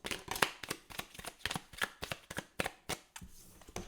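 Small advice cards shuffled by hand in a rapid series of crisp riffling bursts, about a dozen sharp slaps and flutters in quick irregular rhythm, close and clear with no talking.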